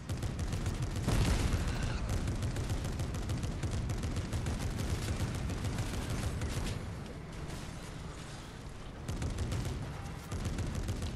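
Dense, continuous video-game gunfire from Fortnite Zero Build, with rapid bursts and booming shots running loud throughout, briefly dipping before resuming.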